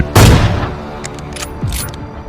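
A gunshot in a comedy shootout: one loud, close blast with a booming tail, followed by quieter reports and clatter.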